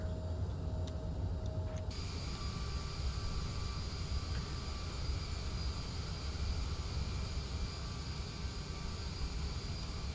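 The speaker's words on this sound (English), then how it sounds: "You can watch the takeoff then, can't you?" An Aerosoft CRJ 700 airliner taking off in Microsoft Flight Simulator 2020: steady jet engine roar and rushing noise with a high turbine whine, fairly quiet and constant throughout.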